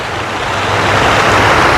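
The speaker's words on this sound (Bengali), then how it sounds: "ঠিক এই জায়গাতেই আছে একটা প্রাকৃতিক ঝর্ণা" Steady, loud rush of a natural waterfall beside a hotel in Abha's High City, a dense broadband roar that holds constant throughout with no voices.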